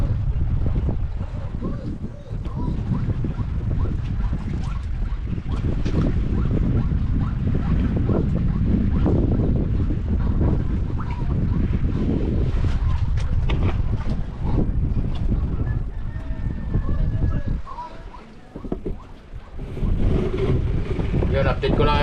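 Northeast monsoon wind blowing at sea during night fishing, a constant rough buffeting rumble against the microphone with water noise beneath, loud and close for the whole stretch, with a voice talking at times.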